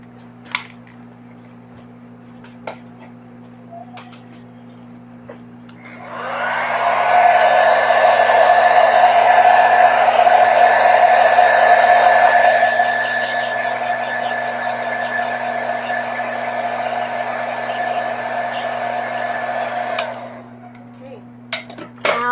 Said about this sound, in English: wait for this to dry or use the blow dryer, which I will